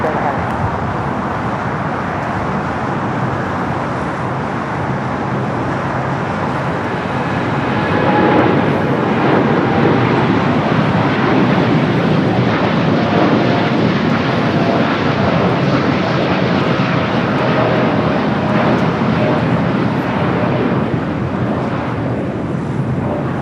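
Philippine airliner rolling down runway 25 right at LAX, a continuous jet engine roar that swells louder after the first third and stays steady to the end, with distant traffic-like rumble underneath.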